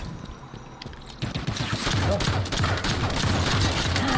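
Rapid turret gunfire in the video game Halo 5, a dense continuous burst of shots that swells loud after a quieter opening and keeps hammering to the end.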